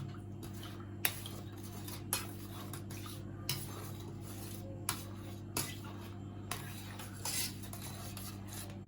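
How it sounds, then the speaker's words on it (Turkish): A spoon stirs salt into a hamburger bun dough mixture in a bowl, with quiet scraping and a sharp clink against the bowl roughly once a second. "Tuzumuzu da attık. İyice karıştıralım."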